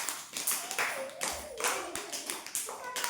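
A group of children claps in quick, uneven bursts, with young voices chattering and calling out over the applause.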